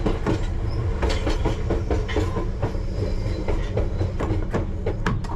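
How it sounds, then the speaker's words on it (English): Repeated sharp clicks of a brake handle being moved between settings in a London Underground Piccadilly line train cab, sounding at an irregular rhythm over a loud, steady rumble of the moving train. "I'll sort of move the handle around as I want to change the brake settings for either more brakes or less brakes."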